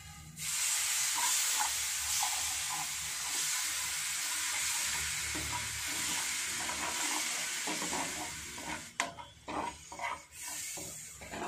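Water hits a hot pan while egg pepper dry cooks, producing a continuous hissing sizzle with stirring and clinking near the end.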